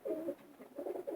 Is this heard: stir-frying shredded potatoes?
no